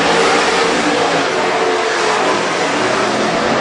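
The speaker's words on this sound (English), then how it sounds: "The final 2 laps for Trantina in 19X." WISSOTA Super Stock race cars roar through the final lap at Granite City Speedway, a loud, continuous wall of engine noise with steady revving and no voices.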